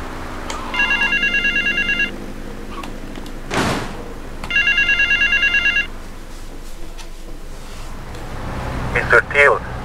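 A payphone rings in Grand Theft Auto Vice City, two bursts of rapid electronic trilling separated by a pause, with a door-like thump between them and game sounds near the end.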